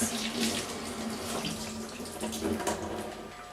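Tap water running over spring onions and fresh parsley in a kitchen sink, a steady close splashing stream with shifting spatter as the greens are moved under it, without talk.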